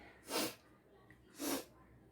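Two sneezes about a second apart after chili powder is sniffed during a couple's sneezing challenge, each a sharp breathy burst, close and fairly loud, with quiet room tone between.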